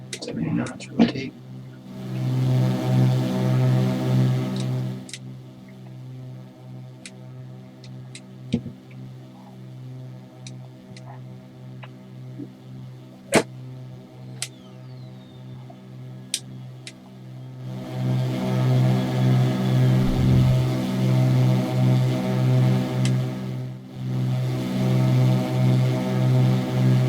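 Carenado Beechcraft piston engine at 2700 RPM takeoff power during a flight-simulator takeoff in FSX, a steady loud harmonic drone that eases in the middle while someone talks, then swells again.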